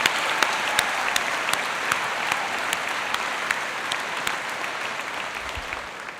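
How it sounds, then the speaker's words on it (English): A commencement audience applauds the Regent, a dense, even roar of many hands clapping, loud and sustained throughout with sharp individual claps standing out, no talking over it. "let's give the Regent a round of applause for the gift of ice cream"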